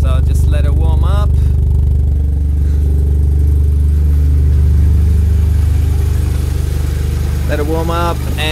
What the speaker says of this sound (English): So I'll just let it warm up.